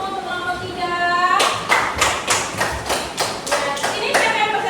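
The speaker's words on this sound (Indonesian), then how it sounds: "Kita beri aplaus dulu untuk kelompok 3." Classroom applause from a group of fifth-grade students, a burst of steady rhythmic hand clapping that starts after a voice and continues loudly for several seconds, with voices mixed in.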